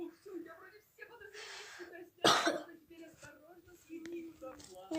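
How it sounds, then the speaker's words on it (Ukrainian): A person coughs a few times, with one sharp, loud burst in the middle and softer throaty coughs and breaths around it, close to the listener. "ще трохи кашляю"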